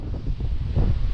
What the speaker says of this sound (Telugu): విండ్ నన్ను కంప్లీట్ తోసేస్తుంది అసలు